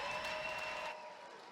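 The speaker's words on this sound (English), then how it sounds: "A big round of applause for these two warriors." A crowd at a fighting championship event applauds the two fighters after a bout, a dense wash of clapping that carries on loudly and then drops to a softer, thinner patter near the end.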